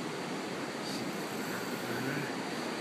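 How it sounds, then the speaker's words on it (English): Ocean surf on the beach at Laguna Beach, California on a cold day, a steady, fairly faint wash of broadband wave and wind noise with no distinct breaks. "So here we are at the beach, buddy."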